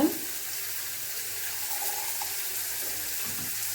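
Horse gram cooking water is poured out in a steady, fairly quiet stream, with a brief louder splash at the very start and then a continuous even trickle.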